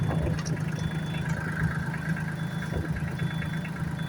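Solis tractor engine idling with reverse low gear engaged, a steady mid-low diesel rumble with a faint whine above it, fairly quiet and constant, no voices.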